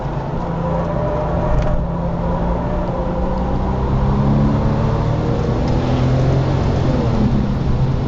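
A 2007 Porsche 997 Turbo howls at speed through the Fuchsröhre compression on the Nürburgring Nordschleife, its engine a steady, loud drone with strong low harmonics and a constant roar, no voices.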